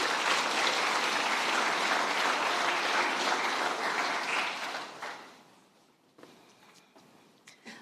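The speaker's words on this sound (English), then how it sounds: "let's give Dr. Rowanne Nishu a big round of applause" Loud, sustained applause from an audience at the launch of a Pacific and global health research centre, holding strong for several seconds before thinning out and fading to a few scattered claps.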